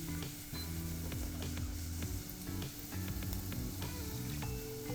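Ginger and garlic sizzling steadily in hot oil in a pan, a close, continuous crackle and hiss with occasional stirring clinks, no voices.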